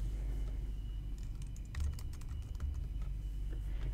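Someone typing an email address on a computer keyboard, with quick irregular key clicks over a low steady room hum, close and quiet.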